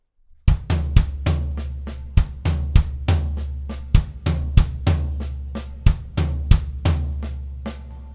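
A drum kit plays a slow repeating pattern of deep kick and tom hits with softer ghosted left-hand diddles between, close and continuous for several bars.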